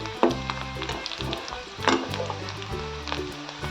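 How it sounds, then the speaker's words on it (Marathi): Onion browning in a pan for a broad bean bhaji, giving a soft continuous sizzle broken by a few louder stirring scrapes, with quiet tonal music running underneath. "याला लाल होईस्तोवर भाजून घेऊया. हे बघा, आपला कांदा छान लाल होत आलाय."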